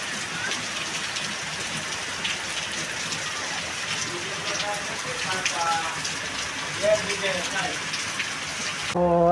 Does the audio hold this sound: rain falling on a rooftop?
yes